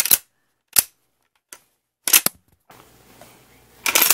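A Mosin Nagant Type 53 gel blaster makes a few sharp, snappy clicks and pops at irregular intervals, close and crisp, with a burst of handling noise near the end.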